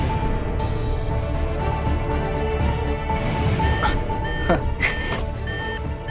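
A wristwatch alarm sounds as a few quick bursts of rapid, high electronic beeps in the latter half. The beeps sit over steady low background rumble.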